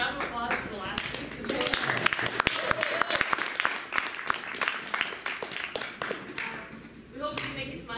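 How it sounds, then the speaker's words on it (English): Audience applause for a campus combo group at a weekly performance, a loud, dense wash of clapping that carries on throughout, with voices mixed in. "Can you just give another round of applause for the last week?"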